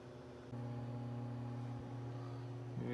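A Breville microwave oven runs with a steady, loud hum that clicks on after half a second and holds an even drone throughout, with no talking.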